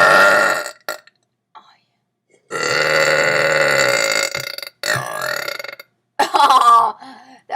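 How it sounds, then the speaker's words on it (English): Loud, drawn-out burps from a child, several long eructations separated by pauses, heard up close with brief talk around them. "We're burping."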